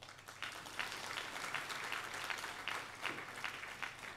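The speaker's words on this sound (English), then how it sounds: "Clap." A faint, distant audience at an NSSF annual members' meeting breaks into scattered clapping that fills a few seconds, soft and diffuse.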